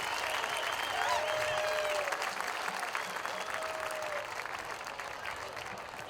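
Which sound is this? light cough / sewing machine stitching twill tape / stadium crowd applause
stadium crowd applause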